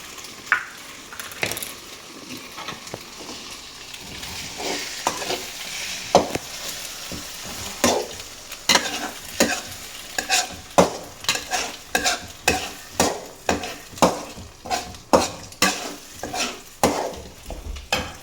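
Three eggs frying in a pan while being stirred, close sizzling under repeated scraping strokes of a utensil that grow into a steady rhythmic stirring pattern.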